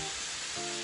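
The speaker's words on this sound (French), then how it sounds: "Je vais ajouter la tomate." Tomato is added to a hot frying pan for hachis Parmentier, and a steady dense sizzle holds throughout the brief moment, close and even, with no talking.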